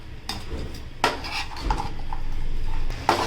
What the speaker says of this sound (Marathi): आता आपण हे पनीरचे क्यूबसुद्धा सर्वमध्ये मिक्स करून घेऊयात